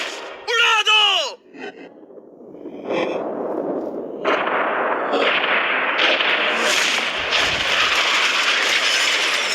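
A yacht blown up in a staged explosion: a brief voice and a short burst come first, then a loud, broadband blast swells into a sustained roar and rumbling debris noise that lasts several seconds.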